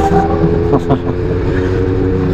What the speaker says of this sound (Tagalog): Itong makina nito tahimik. Pag pinandar mo wala kang maarinig na lagitik.